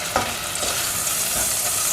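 Potato curry masala with whole mint leaves frying in a pan, a loud steady close sizzle with occasional scraping stirs, no voices.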